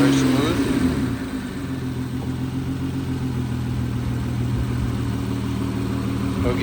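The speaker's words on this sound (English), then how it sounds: "We'll give it some rev up." A 2008 Nissan Altima's 3.5L engine revs up from idle. It surges in a rising burst near the start, then settles back into a steady, close running hum.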